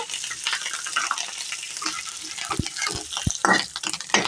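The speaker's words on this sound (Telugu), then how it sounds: "లైట్గా ఫ్రై చేసుకోవాలి ఈ వెల్లుల్లి కరివేపాకు ఇదంతా కూడా కొంచెం ఫ్రై చేసుకోవాలన్నమాట" Garlic and curry leaves fry in a pan with dried chillies, giving close, crackling sizzles broken by a few sharp stirring knocks against the pan.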